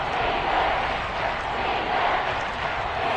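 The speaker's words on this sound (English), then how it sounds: "The crowd getting into it as we come up on a big 3rd down." Football stadium crowd cheering ahead of a big third down: a dense, steady roar of many voices fills the air, loud and unbroken, with no single voice standing out.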